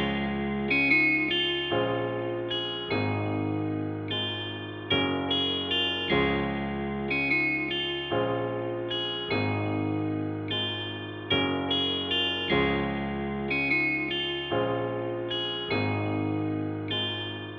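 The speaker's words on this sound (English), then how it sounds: "So this is how it sounds with guitar rig 6." Rendered electric guitar melody processed through Guitar Rig 6 effects, heavy with chorus, distortion and echo, plays a repeating phrase of plucked notes over a sustained low tone, steady and fairly quiet.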